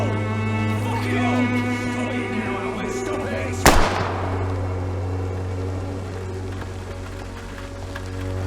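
A single sharp gunshot in the Whitechapel video game, a loud crack midway over a steady low hum and faint tonal ambience, with its echo trailing away.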